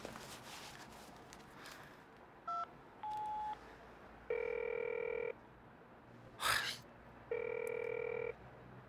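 A telephone call goes unanswered: a few quick keypad dialing tones, then two long, even ringback tones separated by a pause, clean and close over a quiet room hum.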